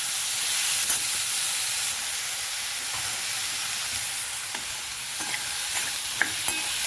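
Boiled potato and cauliflower being stir-fried in a pan for a dry farasbi-cauliflower sabzi: a steady, loud hiss of frying runs throughout, with occasional soft scraping clicks of the spoon tossing the vegetables.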